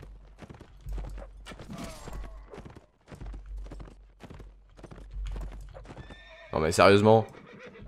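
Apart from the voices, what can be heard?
horses galloping in video game Mount and Blade Warband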